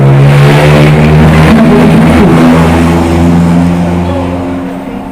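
A boat engine revs loudly and close during a marine engine maintenance training session. The steady, throbbing roar is held for several seconds, then eases slightly toward the end.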